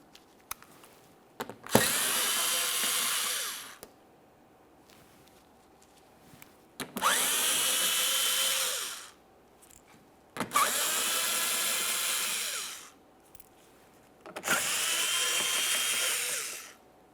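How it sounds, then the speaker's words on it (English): Four whirring runs of a power driver backing out 8mm headed bolts beneath the bumper of a 2014-2018 Mazda 3, each lasting a couple of seconds, close and steady, with short clicks and pauses between. "We'll start with this 8mm headed bolt on the forward shield and continue on along the corner."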